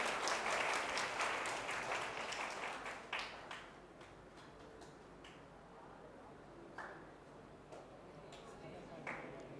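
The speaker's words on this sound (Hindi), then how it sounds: "तालियां बजा दीजिए इनके लिए विशेष तौर से" A room of students and families bursts into hearty clapping for a NEET-2025 top scorer at a coaching class results event; the dense applause is loudest at first, then thins into scattered claps and fades under a speaking voice.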